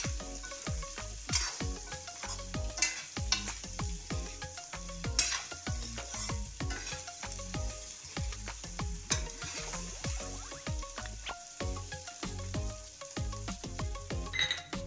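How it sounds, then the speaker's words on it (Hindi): Spiced cumin potatoes frying over a medium flame, a continuous crackling sizzle punctuated by dense, rhythmic spatula scrapes and taps against the pan, close and clear with no voices. "अपने आलू को मीडियम फ्लेम पर फ्राई कर लेंगे"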